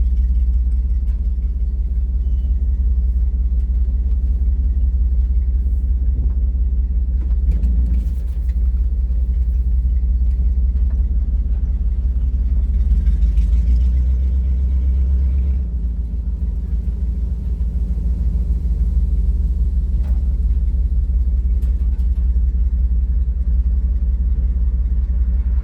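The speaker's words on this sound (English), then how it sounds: "we're gonna take the truck for a drive" A Dodge D-100 pickup with a 5.7 Hemi engine is under way, producing a steady, deep engine rumble heard from inside the cab. The sound has slight swells and holds constant throughout, with no speech.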